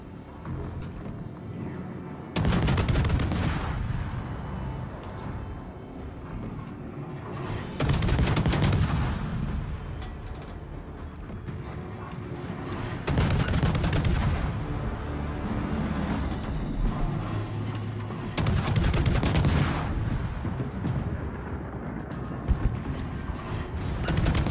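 Naval guns booming from US cruisers in World of Warships, heavy salvos firing in four spaced bursts with rumbling mechanical background between them.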